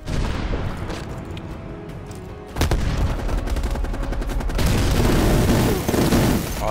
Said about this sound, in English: That's a fucking minigun.